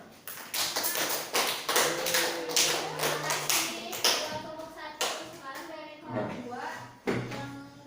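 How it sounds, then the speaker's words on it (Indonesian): Classroom clapping during a microteaching simulation, a steady run of sharp, fairly close hand claps and taps repeating over several seconds, with children's voices and speech mixed in among the claps. "berikan tepuk dulu"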